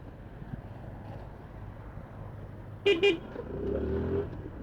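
A newly replaced car horn gives two short honks back to back, followed by a steady engine or road rumble.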